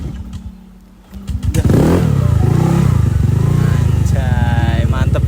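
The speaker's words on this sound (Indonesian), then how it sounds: "Langsung kita nyalain motornya ya" A Honda Vario scooter engine cranks, catches and starts, then settles into a close, steady idle with a brief rev. A person speaks just before the engine starts.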